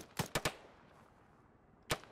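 Enemy gunfire in the video game Arma 3, a quick burst of three sharp shots followed by a pause and one more, fairly quiet.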